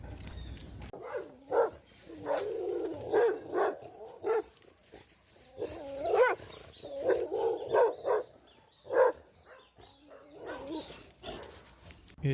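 A dog out on a neighborhood walk in Trinidad gives a series of close, irregular barks and yips with short pauses between bursts, a few whimpering sounds mixed in.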